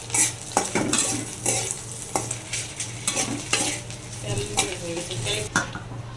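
Dried pheo fish shutki fries in a pan, an ongoing sizzle punctuated by repeated spatula scrapes and metal clinks against the pan, close and fairly loud, with faint talk.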